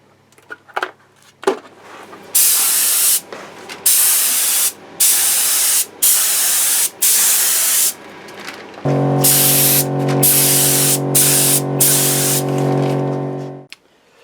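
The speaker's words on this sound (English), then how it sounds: "So that's our lacquer done. We just did a couple of very light coats" Light coats of lacquer are sprayed onto a Yamaha G55A guitar body: a series of short, loud hissing spray bursts, then a longer unbroken spray with a steady hum beneath it.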